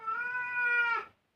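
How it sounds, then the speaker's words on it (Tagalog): A single close, clear cat meow, drawn out for about a second and rising slightly before tailing off, with no other sound around it. "ang aking mga pusang kulit"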